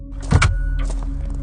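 Friends climb out of a parked car at night in a deserted area. Close mechanical clunks and a short sliding, whirring sweep of the car door and body sound over a low steady rumble.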